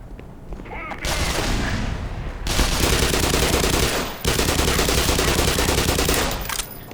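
A gun in the Black Mesa video game firing in long rapid automatic bursts, loud and close, with short gaps between volleys and a voice speaking briefly underneath.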